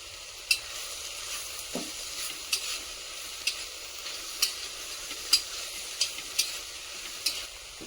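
Ground peanuts go into a simmering bean-pod vegetable dish, with soft sizzling in the pan and a run of light, scattered stirring taps and clinks close by; no one speaks.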